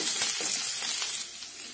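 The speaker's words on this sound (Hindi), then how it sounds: "कुछ सेकंड के लिए मैं अदरक और हरी मिर्च को भून लूंगी" Ginger and green chillies with cumin fry in a pan over low gas, giving a steady, close sizzle that eases slightly toward the end.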